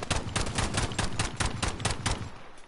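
Rapid automatic gunfire in Call of Duty Modern Warfare, a fast burst of about a dozen sharp evenly spaced shots lasting two seconds, loud and close, then cutting off.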